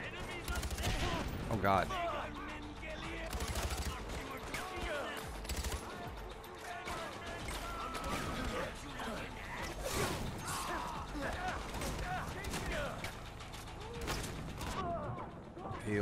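Sniper gunfire in Far Cry 4 cracks out in repeated sharp shots among busy combat clatter and mechanical game noise, with someone speaking over the action.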